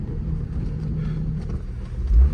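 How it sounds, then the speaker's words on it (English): A Datsun 280ZX engine while driving, heard from inside the car as a steady low rumble with road noise, holding an even drone before a brief heavier thump near the end. "I'm driving the 280Z. It does feel a lot better."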